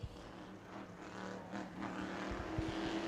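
A big Monte Carlo stock car drones steadily through a qualifying lap on the New Smyrna speedway, a distant, even engine hum with a faint rise toward the end.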